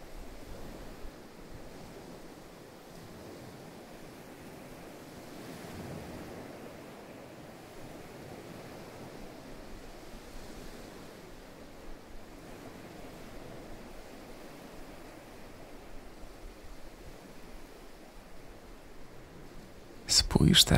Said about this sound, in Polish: przyjemnie chłodne fale obmywają twoje stopy